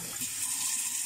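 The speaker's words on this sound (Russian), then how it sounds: "Теперь мы заливаем просто холодной водой из-под крана." Cold tap water pours steadily into a glass jar, a continuous close hissing splash with no break and no talk over it.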